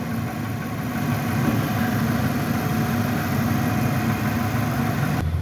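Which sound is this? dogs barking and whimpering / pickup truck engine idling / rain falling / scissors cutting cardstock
pickup truck engine idling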